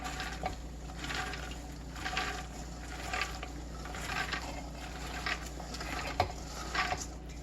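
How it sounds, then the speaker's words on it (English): Par-cooked black and pinto beans pour into a pot as a soft, steady patter of small pieces tumbling in, with quiet irregular clatters and a low kitchen hum underneath. "Let's see if we can get the cascade of beans."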